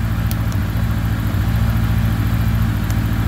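A 1981 Honda CB900C motorcycle engine idles steadily just after starting, a loud, close, continuous low rumble with an even pulse and no voices.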